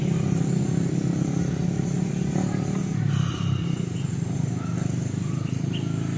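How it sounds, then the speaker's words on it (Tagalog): Steady road traffic with passing cars and motorcycles on a road in the provincial countryside, a continuous engine drone that swells as vehicles go by, with faint bird calls over it. "Daanan na yan dyan ang mga sasakyan dito kaya maingay."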